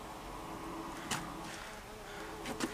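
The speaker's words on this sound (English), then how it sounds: "There's something buzzing, people," A faint insect buzzing nearby hums steadily and quietly outdoors, with a couple of brief bumps or rustles, and no one speaks.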